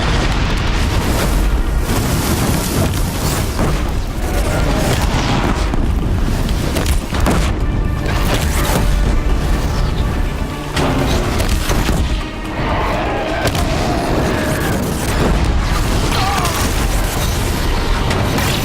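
Bombs explode over and over in Horizon Zero Dawn: The Frozen Wilds, with loud, rumbling blasts and bursts that continue through a frantic battle alongside faint talk.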